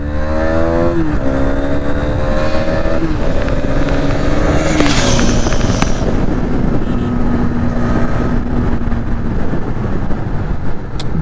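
Hero Xtreme 250R motorcycle ridden hard on an empty road, engine loud and close as it revs up through gear changes, with heavy wind rushing across the microphone throughout.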